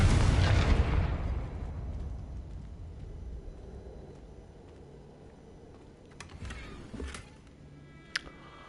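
A Confringo blasting spell goes off in Hogwarts Legacy, opening with a loud booming explosion that rolls off over a few seconds, followed by fainter crackling debris and a couple of small sharp pops near the end.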